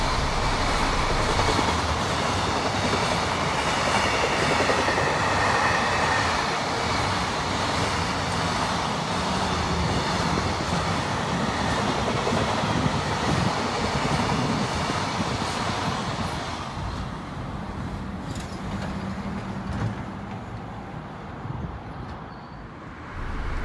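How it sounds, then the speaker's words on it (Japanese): A long freight train rumbles past steadily in Takatsuki, Japan, a loud dense roar of wheels and rattling cars that holds for most of the stretch, then thins and recedes at the end. "貨物電車貨物列車"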